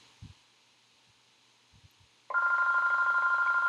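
A telephone suddenly starts ringing after a few soft knocks and thuds, its loud, steady electronic trill continuing unbroken and close by, with no one talking over it.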